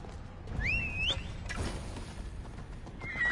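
A horse in the video game Assassin's Creed Odyssey whinnies with a rising, wavering call, followed by soft hoof clops and a second shorter neigh at the end.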